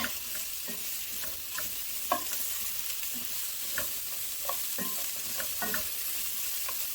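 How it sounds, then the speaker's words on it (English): Onions frying in a pan, tossed and stirred with a spoon to break up clumps: a steady sizzle runs throughout, with scattered soft scraping and clinking knocks from the spoon, close and moderate, no talking. "I'm going to give all of this a toss. Any little onions that may stick together, just kind of break those up with your spoon."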